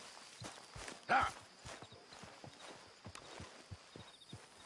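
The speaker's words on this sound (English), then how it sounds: "get that horse out of here." A horse walks in Red Dead Redemption 2, its hooves clip-clopping in a soft, steady stream of light taps under quiet game ambience, with one brief louder sound near the start.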